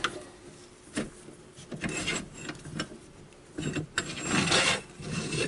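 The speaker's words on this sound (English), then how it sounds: "Start the sanding." Sandpaper rubs against a wooden bowl spinning on a lathe, a steady rasping hiss that swells and fades in uneven strokes over the motor's hum, close and fairly loud with no talking.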